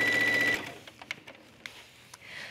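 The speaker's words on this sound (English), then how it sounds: "The next thing you do is just sew down the seam." A sewing machine stitches a sleeve seam on a tunic with an elastic bell sleeve, a fast, even whirring hum up close for about half a second before stopping, followed by faint clicks and handling sounds.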